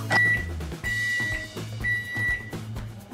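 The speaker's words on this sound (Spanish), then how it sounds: "vamos a abrir nuestro microondas y le vamos a dar 30 segundos" A microwave oven being set to heat cold porcelain clay for 30 seconds gives a series of sharp electronic beeps as its keypad is pressed, close and distinct over a low hum.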